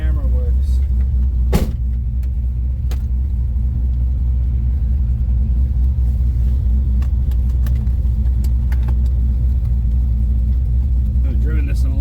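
An LS-swapped BMW E36 cruises around the block, with a steady low engine and road rumble heard from inside the cabin, a few faint clicks and thumps, and people talking over it.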